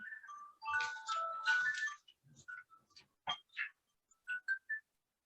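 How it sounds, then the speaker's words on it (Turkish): A bright electronic alarm tone rings in a rapid warbling burst, followed by several short separate beeps, fairly close and clear against near silence. "Alarm çalıyor ama."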